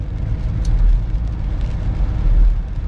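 A car drives out of Prague on a very rainy day, its steady low engine and road rumble continuous and close, with a wash of rain and tyre hiss over the top throughout.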